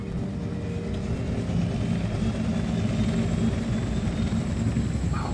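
Steady helicopter engine and rotor drone in the Wolfenstein: The New Order video game, a constant close low roar with no break across the whole stretch.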